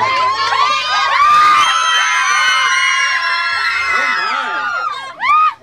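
Loud crowd of fans at an LMFAO appearance cheering and shrieking with high excited screams, sustained for several seconds before fading, then a brief final whoop.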